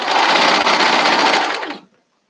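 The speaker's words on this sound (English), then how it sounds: "Is the sewing machine really loud?" A sewing machine runs steadily at high speed for nearly two seconds, its dense whirring buzz close and loud, before it stops abruptly into silence.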